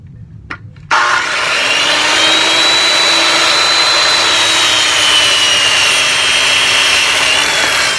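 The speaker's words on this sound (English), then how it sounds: "you want to make sure that you have the full RPM or finger on the trigger depressed all the way through the cut until you finish your cut" A power saw rips through old growth cedar, starting with a brief startup and then holding a loud, steady high-pitched whine through the whole cut with no pause.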